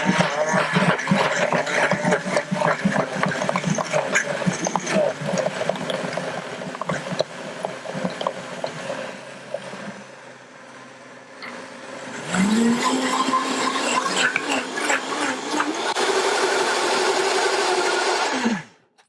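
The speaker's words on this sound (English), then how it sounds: "now that I have the pineapple and Tulsi all in a blender, I'm gonna go ahead and blend" A loud blender roars continuously, blending pineapple and tulsi into a drink, its pitch dipping midway then spinning back up with a rising whine before cutting off at the end.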